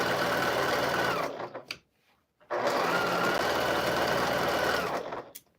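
A sewing machine stitches fabric in two fast, steady bursts with a brief silent pause between them, close and clear, with no talk over it.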